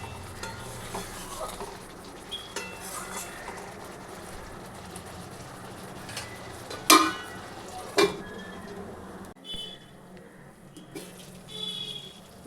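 Mutton is stir-fried in oil in a pan as kasha, with a quiet ongoing sizzle under scraping stirs and a few sharper clanks of the spoon against the pan.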